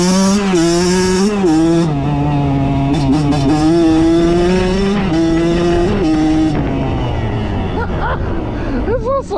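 Kawasaki KX 112 dirt bike engine, a loud buzzing two-stroke drone with revs rising and falling as it rides off, with voices audible in the background.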